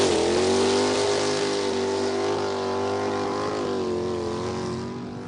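A classic 1967 McLaren racing car engine launching at a hillclimb, a loud sustained harmonic roar holding high revs before easing off slightly toward the end, heard alone without talk.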